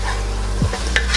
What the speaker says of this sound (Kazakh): Пиязымыз бен етімізге осындай сәбіз бен томатымызды салып, тағы да қуырып аламыз